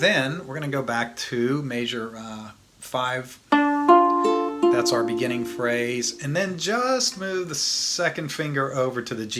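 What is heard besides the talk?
No everyday noises stand out.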